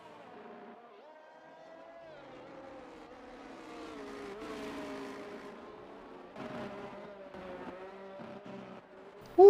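McLaren and other race cars in a sim racing game at the Portuguese Grand Prix, engine tones rising and falling steadily as they lap, fairly quiet, with a brief louder thump at the end.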